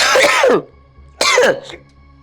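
Two short, harsh coughs, close and fairly loud, separated by a brief pause, with low room hum between them and no speech.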